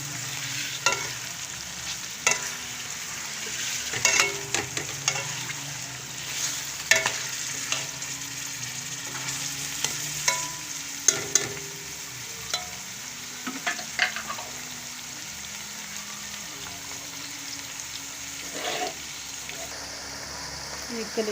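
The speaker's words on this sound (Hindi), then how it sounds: "ये कलेजी हमारी फ्राई हो गई है।" Chicken liver (kaleji) frying in a pan, a continuous low sizzle broken by repeated stirring clatters and scrapes of the utensil, with faint talk at moments.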